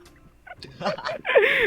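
A chicken sound from the video game Hand Simulator: a short, loud, gobbling squawk that rises at the end, with brief bits of voice just before it.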